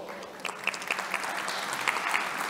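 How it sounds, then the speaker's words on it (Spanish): Audience applause welcoming a speaker to an IPv6 conference talk, a dense patter of many hands clapping at moderate, fairly distant level, steady throughout without voices. "por favor, recibamos a nuestra ponente con un aplauso"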